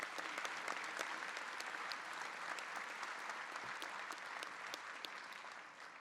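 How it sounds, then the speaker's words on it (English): An inauguration audience for a county executive claps in a broad, steady round of applause, evenly sustained from a hall full of people and fading slightly toward the end. "Let's give them a round of applause."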